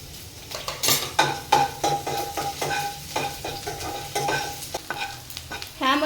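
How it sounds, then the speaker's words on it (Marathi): Finely chopped garlic, ginger and green chilli sauté in hot oil with a crackling sizzle, under frequent close scrapes and clinks of a spoon stirring against the pan. "सर्वात आधी तर ह्यामध्ये बारीक चिरून घेतलेलं लसूण, आलं आणि मिरची हे तेलामध्ये छान परतून घ्यायचं"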